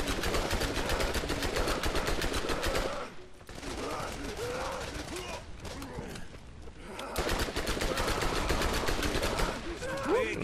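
Video game gunfire from Borderlands rattles in long rapid automatic bursts with short gaps between volleys, loud and dense, while players talk over the shooting.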